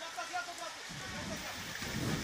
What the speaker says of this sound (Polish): Sroga ulewa.